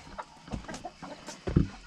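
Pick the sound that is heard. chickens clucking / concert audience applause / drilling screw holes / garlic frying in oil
chickens clucking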